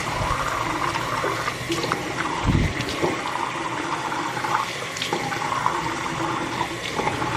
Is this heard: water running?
yes